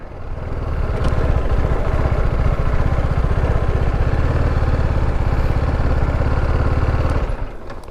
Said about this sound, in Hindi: तो लगाते हैं यार यहाँ पे बाइक।